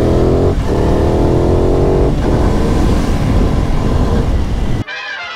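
An Aprilia Tuono 660 two-cylinder motorcycle engine revs loudly and steadily up close, with brief dips in pitch, then cuts to a quieter, thinner tone near the end.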